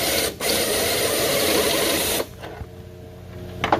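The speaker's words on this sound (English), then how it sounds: "Trying to drill out these rivets right here" A power drill bores out rivets on a 1939 Oldsmobile, giving a loud steady whine that breaks off briefly near the start and then stops, leaving quieter shop noise behind.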